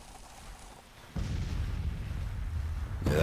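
Artillery battery firing in the Civil War strategy game Grand Tactician: a heavy, rumbling boom suddenly swells and sustains as a dense roar, with another burst at the end, no voices.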